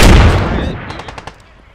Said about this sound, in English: Now they're shooting RPGs at me.